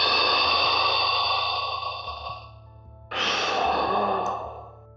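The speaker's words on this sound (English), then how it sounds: "hears only heavy and raspy breathing" Heavy, raspy breathing of a caller on a phone line, slow drawn-out breaths close to the ear with a brief pause before a sharp fresh inhale, no voice heard.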